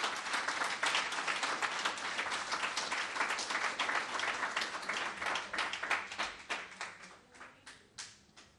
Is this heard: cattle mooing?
no